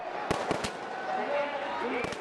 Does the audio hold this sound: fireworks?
yes